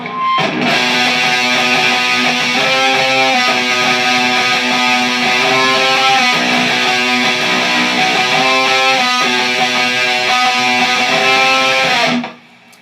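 A sustained, heavily distorted electric guitar riff plays steadily for several seconds with chord changes, then stops abruptly.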